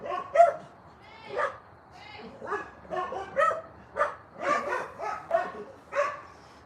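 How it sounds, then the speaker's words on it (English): Neighbouring dogs bark and yip repeatedly in an irregular series of sharp, fairly close barks, with a person talking in the same stretch. "Those are my neighbor's dogs."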